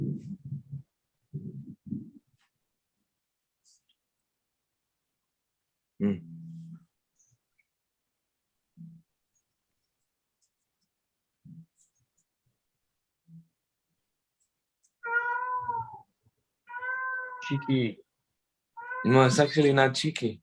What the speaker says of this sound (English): That's my cat, but I thought I had it muted.